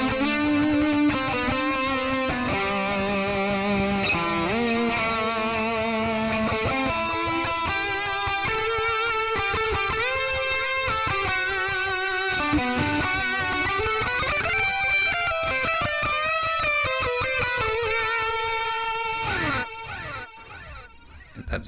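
Electric guitar, a Strat through an EVH amp, played via a Joyo R-07 Aquarius delay pedal with distortion and chorus, a continuous melodic line with stepped notes trailing into repeating echoes, loud and close.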